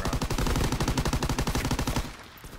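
Rapid automatic gunfire from a World War II era weapon in the Call of Duty: WW2 video game, a dense, loud burst of repeated shots for about two seconds before cutting off abruptly.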